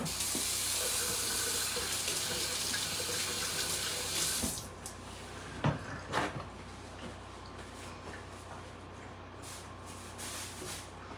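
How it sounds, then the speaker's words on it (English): Hands washed under a running kitchen tap, steady rushing water for several seconds, then the flow stops and a few clattering handling knocks follow in a quieter room. "Wash my hands real quick because I'm going to be touching that."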